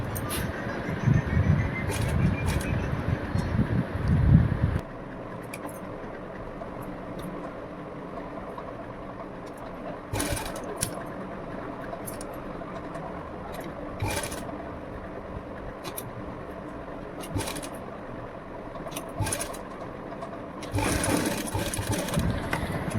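A sewing machine stitches a gathered back neck design on a blouse, running in loud, close bursts of rapid stitching separated by short pauses.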